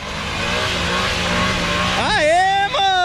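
A Suzuki Jimny engine revs steadily while driving through flooded terrain, a loud continuous drone that swells late, with excited voices and shouts breaking in over it near the end.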